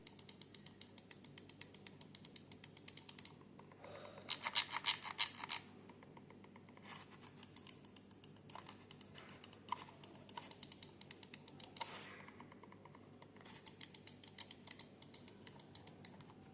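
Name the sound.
Logitech G Pro X Superlight mouse button clicks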